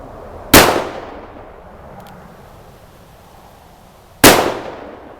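A Smith & Wesson Model 64-7 .38 Special revolver fires +P rounds in single action, giving two loud, sharp shots several seconds apart, each trailing off in a short echo.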